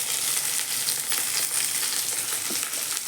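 Fenugreek seeds fry in hot oil for a tamarind curry made with manathakkali seeds, giving a loud, close, continuous sizzle with fine crackling pops that stay steady throughout.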